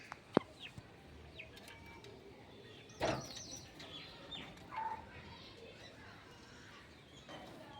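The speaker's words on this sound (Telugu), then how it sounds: "అడవి కోళ్ళు, చిలక ముక్కు కోళ్ళు ఉన్నాయి ఇక్కడ." Wild chickens and parrot-beaked fowl near an apartment block give occasional soft clucks and calls at a moderate distance over a faint outdoor background, with a sharp knock early on.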